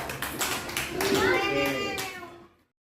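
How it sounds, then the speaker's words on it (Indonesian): Grade-four primary classroom children clap a few quick rounds together, then their voices rise in a short chant before the sound cuts off abruptly. "Tepuk tangan untuk Dinar ya"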